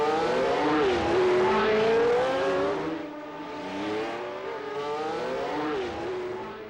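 Formula One cars from the 1980 season heading out for practice in Montreal, Canada, engines whining and rising in pitch as they accelerate, loud and close with a steady roar that swells and fades as the cars pass.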